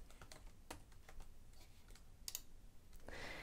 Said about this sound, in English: I can start typing the name of my salad recipe post.